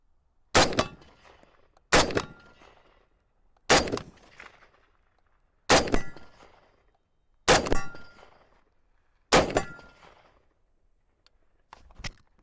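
Springfield M1A rifle fired from a standing position, six sharp gunshots spaced about one and a half to two seconds apart, each loud and close with a brief ringing decay, no talking.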